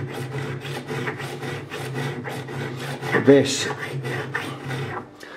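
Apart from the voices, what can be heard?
file leveling guitar frets on ESP MII neck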